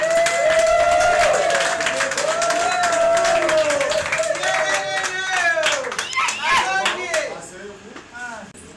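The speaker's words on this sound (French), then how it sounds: "Applaudissez pour les parents." A wedding crowd claps for the couple's parents, many hands beating steadily under a loud, continuous voice that talks over the clapping before it thins out toward the end.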